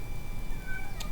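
A house cat gives a short meow, fairly faint against steady indoor background noise, with no talk.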